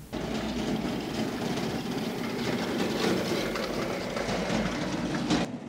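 A battery-powered cargo platform on metal tracks, built like a small tank, rolls along with a steady, close clatter and rumble of its tracks that holds even for about five seconds before stopping abruptly, with no talking.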